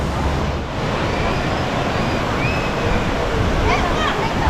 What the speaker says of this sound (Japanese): 滝の方に向かっています。